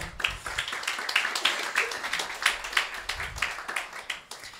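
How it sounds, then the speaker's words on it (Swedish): A small audience at an architecture breakfast talk applauds the speaker, giving close, uneven clapping from a modest group with individual hand claps standing out. The clapping is continuous and moderately loud throughout. "Jag tycker vi ska ge Johan en applåd."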